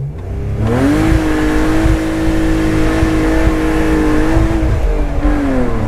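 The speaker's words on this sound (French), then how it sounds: "On va tester la petite accélération des familles." A 231-horsepower BMW convertible's engine revs up hard and holds a loud, strained roar as it accelerates toward 7000 rpm, heard up close from inside the vehicle with no speech.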